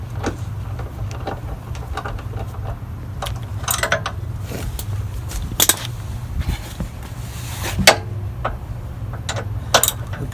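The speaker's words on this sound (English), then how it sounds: "So you can go on under there and uninstall those bolts." A socket ratchet removes bolts under a Jeep, giving scattered quick clicking bursts over a steady low hum, close and fairly quiet, with no talking.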